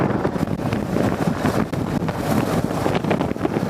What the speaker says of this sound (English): I'm sure all you guys are hearing is just wind blowing